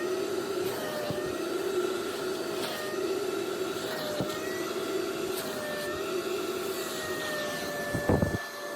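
A vacuum cleaner runs continuously with a steady, high whine while vacuuming a car's carpet, its pitch wavering slightly as the nozzle moves, and bumps and knocks come near the end.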